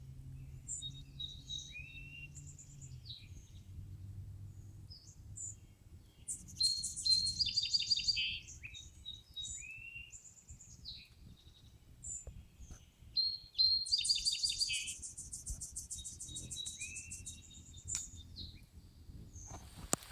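Varied bird songs and chirps ring out over a quiet forest, several species calling in alternating phrases, fairly distant, with faint low rumble beneath.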